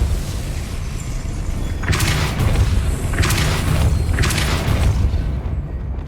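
Depulso spell cast in the Hogwarts Legacy video game: three loud, boomy whooshing blasts with bright crackling bursts, spaced roughly a second apart over a steady rumbling game background.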